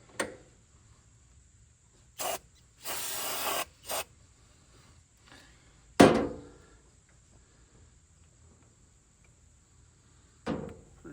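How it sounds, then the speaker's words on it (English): Carb cleaner is sprayed onto an International Cub Lo-Boy tractor engine in a few short hissing bursts, one lasting about a second, followed later by a sharp metallic clank and another brief spray. "Just try carb cleaner first."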